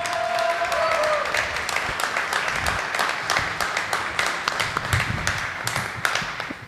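An audience at a conference applauds with a steady patter of many hands that fades gradually over several seconds, with a brief tone near the start.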